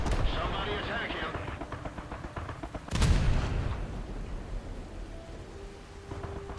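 Heavy ship guns boom in a naval video game, one big blast standing out over a steady rumble of engine and sea noise.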